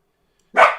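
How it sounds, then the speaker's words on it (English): Dog named Max gives one short, sharp bark, close and loud, after a stretch of silence. "Interpret Max's bark."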